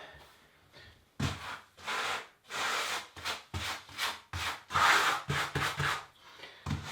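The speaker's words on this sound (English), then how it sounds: "I'm just going to scrape that grout off the top of the tile at that 90-degree angle." Grout being scraped off the top of ceramic bathroom floor tile with a tool held at a right angle, a run of close, rough rubbing strokes in quick repeated bursts with brief pauses between.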